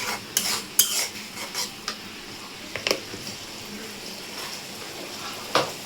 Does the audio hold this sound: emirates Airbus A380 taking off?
no